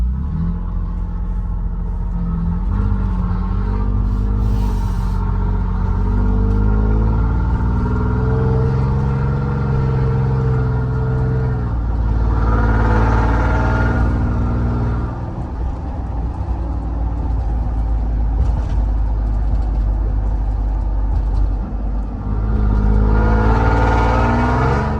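Cabin noise inside a Toyota Tundra driving at night with a window down and the sunroof tilted up: a continuous low engine drone and rumble, with the engine note rising and falling as it accelerates, and steady wind and road noise throughout, with no talking.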